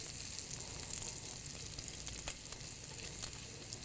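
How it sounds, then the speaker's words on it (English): Food fries in a pan with a soft, continuous sizzle, fairly quiet and close, broken by a few faint crackles and light stirring clicks. "You can kind of hear the sizzle kind of soften a little bit."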